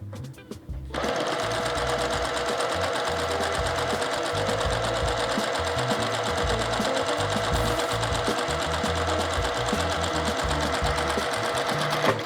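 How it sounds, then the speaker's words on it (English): A sewing machine stitches a quilt seam, running as a steady, close, continuous mechanical whir for nearly the whole stretch after a brief start, with no talking. "I'm gonna sew down one side here. I'm gonna stop, I'm gonna turn around and sew down the other side."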